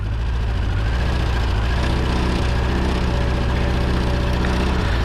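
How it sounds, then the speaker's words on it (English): A car engine runs steadily with leaking cylinder head gaskets, giving a continuous, loud, close rumble with a rough, puffing texture throughout. "a sneezing sound coming from the exhaust not from the exhaust, from the gaskets on the engine"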